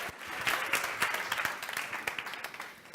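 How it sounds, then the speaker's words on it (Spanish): An audience applauds after a talk, with steady, moderately loud clapping from many hands that continues throughout. "Un aplauso."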